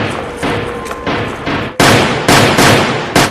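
Gunshots in a crime film scene where a mafia boss threatens police by pretending to shoot hostages: several loud, sharp bursts in the second half, following a busier, muffled stretch of action sound.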